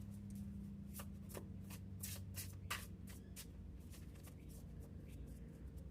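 Fairy Tarot cards riffled and shuffled close by in a run of quick, crisp flutters, then softer handling sounds as cards are drawn over a faint background hum.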